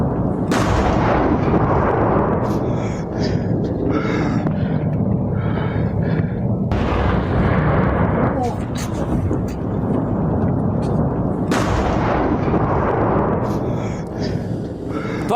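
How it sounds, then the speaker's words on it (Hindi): Pakistani airstrike bombardment on residential areas gives loud, rumbling explosions and heavy blasts that recur in rough waves over a sustained roar, with voices mixed in. "इन वीडियोस में दावा किया जा रहा है कि पाकिस्तान ने रिहायशी इलाकों में बमबारी की"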